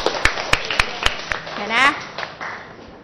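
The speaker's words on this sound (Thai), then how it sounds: "อ่ะปรบมือให้เพื่อนหน่อย" A handful of scattered hand claps from a Thai grade 6 classroom, sharp and fairly close, spaced irregularly across a few seconds, with a voice talking over them.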